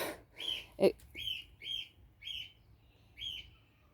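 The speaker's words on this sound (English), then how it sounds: "My bird is inside chirping at me." A pet bird chirps indoors, giving about five short, bright, evenly spaced tweets that sound fairly close and clear, with a thump and faint background noise near the start.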